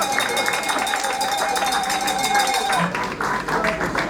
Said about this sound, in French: Applaudis-la.